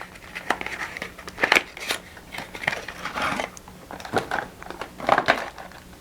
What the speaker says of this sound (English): Here, I'll take the battery out.